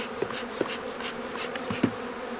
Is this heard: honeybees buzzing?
yes